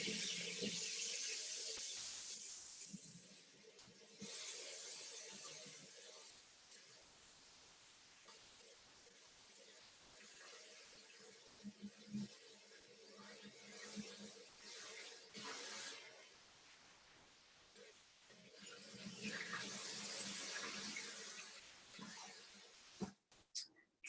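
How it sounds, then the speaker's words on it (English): Snow fungus is rinsed under running kitchen tap water, a faint hiss of flowing water with splashes rising and easing as the fungus is turned, louder near the start and again toward the end. "I'm going to just rinse it out one more time just to make sure that all that dirt is rinsed out."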